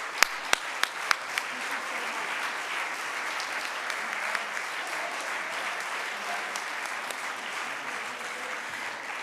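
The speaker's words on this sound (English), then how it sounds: "Can we give one more round of applause" A round of applause from a talk audience, steady and sustained crowd clapping that fills the whole stretch at even loudness, with a few sharper nearby claps standing out near the start.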